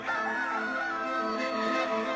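A single rooster lets out one long, sustained crow, clear and fairly near, with no voices or other sounds around it.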